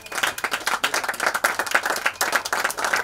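Rhythmic, fairly close clapping from a political gathering audience, hands beating in quick irregular bursts at moderate volume with no clear cheering.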